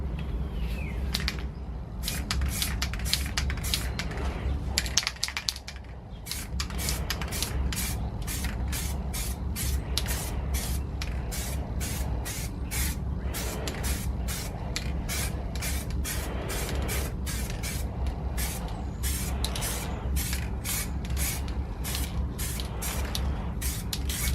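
An aerosol spray paint can coats brake calipers at home in a long series of short hissing bursts, close and evenly paced with brief gaps between sprays, over a low steady background hum.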